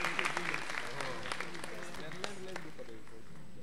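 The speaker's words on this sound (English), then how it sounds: "Shall we give them a hand of applause?" Audience applause at a university leadership lecture in memory of a professor, scattered claps sharpest at the start and then thinning, while someone speaks over it.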